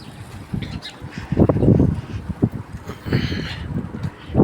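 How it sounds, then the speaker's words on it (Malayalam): Strong, cold wind gusts outdoors in Qatar, rising and falling in rough rumbling surges against the microphone, with faint bird chirps in the background. "ഭയങ്കര തണുത്ത കാറ്റടിക്കുന്നുണ്ട് ഇവിടെ"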